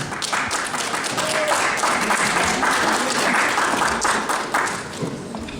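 Hearty audience applause at an award ceremony of a county Christmas and carnival pageant review in Brodnica, a loud, continuous wash of many clapping hands lasting several seconds, with a voice faintly present underneath.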